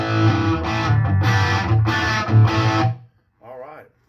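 Chords on an Epiphone '58 Explorer electric guitar through a Minotaur overdrive pedal ring out crunchy and loud, strummed in a few bursts, then a brief spoken remark follows.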